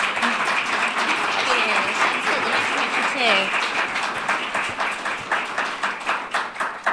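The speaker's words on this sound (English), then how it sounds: "Let's give them a round of applause." Sustained crowd applause at a candidate forum, dense clapping throughout, accompanied by cheering voices and chatter over the top.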